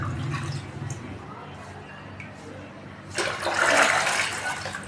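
Water poured out for a jelly mixture splashes and gushes loudly in a burst near the end, after a quieter stretch of faint trickling and background sounds.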